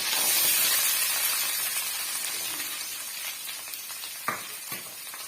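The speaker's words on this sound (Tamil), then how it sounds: "வெங்காயம் முழுமையாக வதங்கி வர்ற வரைக்கும் நம்ம வறுத்து விடலாம்" Steady crackling sizzle of onions frying in hot oil while cooking chicken, close and continuous, with a couple of faint clinks near the end.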